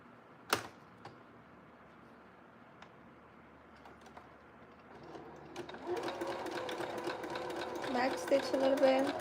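Sewing machine stitching a blue jumpsuit, starting quietly after a sharp click and building into a steady, moderately loud whir of stitching for the last few seconds, with a person speaking.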